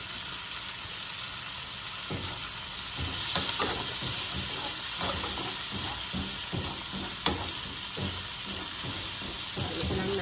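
Vegetables stirred in a hot pan after a splash of white vinegar: steady sizzling hiss under repeated scraping strokes of a utensil, close and fairly loud, with no talk.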